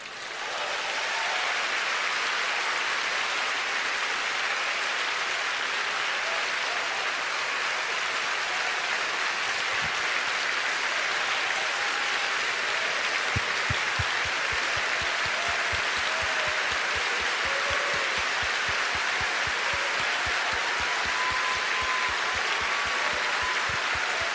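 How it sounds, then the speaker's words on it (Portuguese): Church congregation at a Lagoinha sermon giving a standing ovation, sustained dense applause that swells and holds like heavy rain for over twenty seconds, broad and roomy. "É para aplaudir de pé, igreja."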